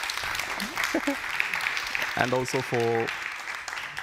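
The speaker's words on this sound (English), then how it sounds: "Yeah, a round of applause." Audience applause at an agricultural conference session on ecosystem-based solutions: moderate, steady clapping from a room, with a person talking over it and a few brief tonal sounds partway through.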